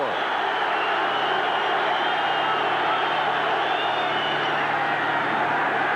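A dense, steady roar from a packed stadium crowd at a 1988 Jets vs Chiefs football game fills the whole stretch, constant and loud without breaks.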